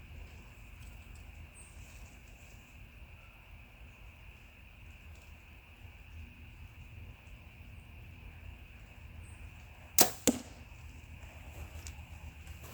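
A quiet outdoor hum, then a sharp thud near the ten-second mark followed quickly by a second softer impact as an arrow strikes a DIY foam target.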